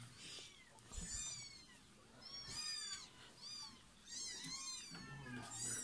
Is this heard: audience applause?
no